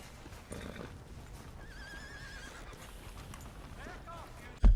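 In Red Dead Redemption 2, a horse whinnies and its hooves clip-clop nearby, with voices talking over the game sounds.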